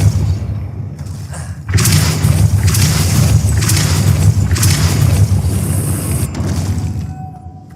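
A Depulso spell fires in Hogwarts Legacy during a tomb raid, a loud sustained blast of booming, thudding force with rumbling impacts that swell after a brief quiet start and fade at the end.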